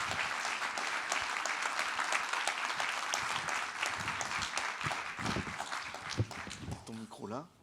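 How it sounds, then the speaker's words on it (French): Warm audience applause welcoming a guest onto a stage at a live talk event, sustained clapping throughout, with a few brief voices and handling noises near the end. "Et je vous demande d'applaudir très chaleureusement Claire Villard-Lurton."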